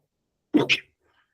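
A single sharp sneeze in two quick bursts, close and fairly loud, followed by silence.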